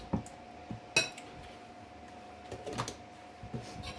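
A big spoon scoops sour cream from a container, producing a few soft clinks and scrapes against the plastic, close and fairly quiet with no talking.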